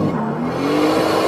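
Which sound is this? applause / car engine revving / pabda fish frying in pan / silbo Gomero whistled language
car engine revving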